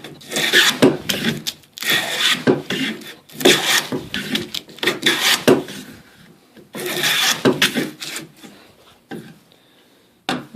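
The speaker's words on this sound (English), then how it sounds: "See if I can get a good shaving off here." Hand plane pulling shavings off a piece of pine on a woodworking workbench, a series of loud, close rasping strokes in a steady rhythm with short pauses between passes.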